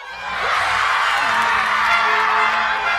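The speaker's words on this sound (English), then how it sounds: "The crowd goes crazy." Crowd going wild at a Quidditch match just after the Snitch is caught, a dense, sustained roar of cheering and whooping that holds loud and steady throughout, with a rising shout near the start.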